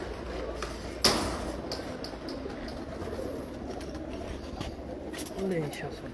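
Champion pigeons on a rooftop coo low and continuously, with a sharp knock early on and a louder coo toward the end. Voices talk faintly in the background.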